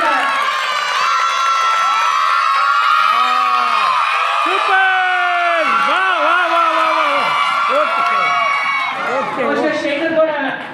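A crowd at a school annual day function cheers and applauds, with children shouting and whooping loudly over a public address voice and music, the noise sustained and close.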